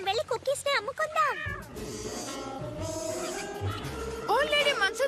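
A cartoon cat meows in several high, bending cries at the start and again at the end, mixed with animated voices and background music throughout.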